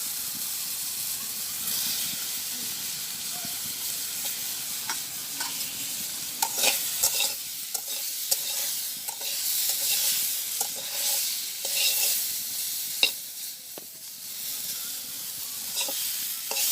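Fish frying in oil in a pan while cooking outdoors in a village on a winter morning, giving a steady close sizzle with scattered pops and crackles and occasional scraping knocks as it is turned.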